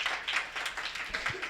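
An audience at a Hindi poetry recital (kavi sammelan) in Lalitpur claps in a scattered burst of applause, fairly faint and distant, with a few individual claps standing out.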